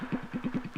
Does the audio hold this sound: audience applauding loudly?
no